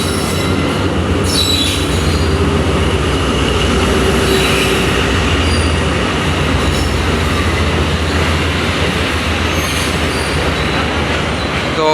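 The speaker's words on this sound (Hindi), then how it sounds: "15 of Karachi express platform number 1 पर लग रही है कराची कैंट रेलवे स्टेशन के।" The Karachi Express, led by a ZQ30 locomotive, pulls into platform 1 at Karachi Cantt railway station with loud, continuous rumbling and high, drawn-out wheel squeal, without any voices.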